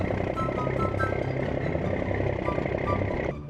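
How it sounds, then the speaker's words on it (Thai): A truck engine drones loudly and steadily, with faint higher tones over the rumble before it drops off near the end. "เสียงรถดังอ่ะ"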